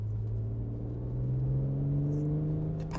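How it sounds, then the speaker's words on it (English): A BMW M140i engine pulls steadily under light throttle at 2000 RPM in fourth gear, a smooth low drone that rises gently in pitch as it accelerates. "applying the throttle sensibly, 2000 RPM"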